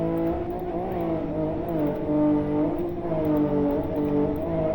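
A racing car engine in the Live for Speed driving game revs steadily while the car drifts sideways, its buzzing pitch rising and falling in smooth waves at constant loudness.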